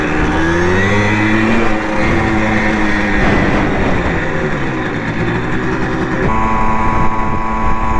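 Several Simson mopeds riding off together, small two-stroke engines revving and buzzing loudly up close, pitch rising and falling as they accelerate away.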